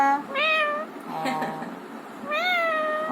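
A cat meows three times, drawn-out rising and falling calls with brief pauses, close by and fairly loud against a quiet room.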